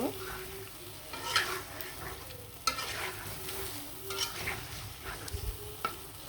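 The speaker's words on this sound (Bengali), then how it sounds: "সবগুলো মাছ দিয়ে কিন্তু খুব সুন্দরভাবে নাড়াচাড়া দিয়ে মশলার সাথে মিশিয়ে নিব" Rohu fish pieces stirred into a frying spice paste in a pan, a continuous sizzle with intermittent utensil scrapes and knocks, close and moderately loud, no voices.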